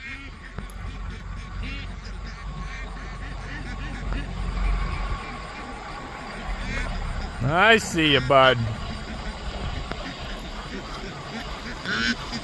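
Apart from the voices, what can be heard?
ducklings quacking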